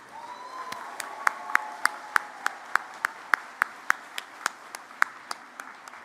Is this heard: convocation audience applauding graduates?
yes